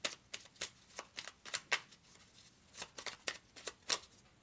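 Tarot cards shuffled by hand in a quick, irregular series of crisp riffling bursts, close and clear, with no talking.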